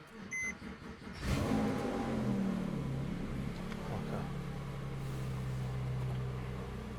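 Porsche 911 997.1 Carrera S cranks after a few warning beeps, its flat-six catching at once and settling into a steady, loud idle with a faint rise in revs near the end.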